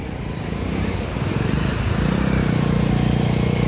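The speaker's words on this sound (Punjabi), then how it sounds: "ਉਹ ਦੇਖ ਲਓ ਬਾਈ ਦਾ ਮੋਟਰਸਾਈਕਲ ਫਸ ਗਿਆ" A motorcycle stuck in a flooded pothole on a rain-soaked street in Kotkapura, its engine droning steadily, then swelling into a heavier, louder rumble from about two seconds on.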